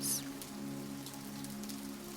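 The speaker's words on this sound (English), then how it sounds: "carried now by the soft patter of raindrops upon the petals of the flowers" Soft rain patters onto flower petals in a steady, gentle wash of drops, with a low continuous hum beneath and a brief brighter splash at the start.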